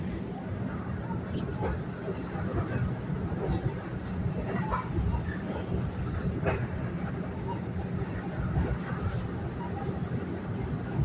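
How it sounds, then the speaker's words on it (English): An LIRR express train rides nonstop from Jamaica to Grand Central, heard from inside as a steady low rumble with faint clicks and rattles, with soft background chatter from passengers. "This is a direct train from Jamaica to Grand Central."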